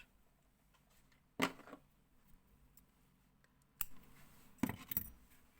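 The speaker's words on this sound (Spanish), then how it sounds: "Esta hebra ya la vamos a cortar." Scissors snip through a strand of yarn while crocheting an amigurumi figure, making several sharp close clicks: one near the start and a quick cluster near the end, with quiet between.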